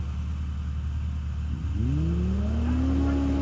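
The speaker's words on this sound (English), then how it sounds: "He's gonna do a hot lap." A Pro R 4 off-road vehicle launches on a hot lap, its engine idling with a steady rumble before a sharp rev at about 1.7 seconds and a rising whine as it accelerates hard, loud and close, with no talking.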